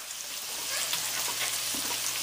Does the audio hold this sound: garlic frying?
yes